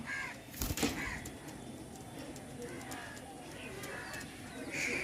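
Kalsera Andhra pigeons cooing at a pigeon sale: soft, low coos come and go, fairly faint, over a hushed room background with a brief louder rustle near the start.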